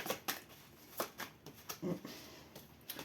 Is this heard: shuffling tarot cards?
yes